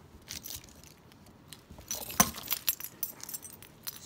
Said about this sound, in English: You dropped my keys.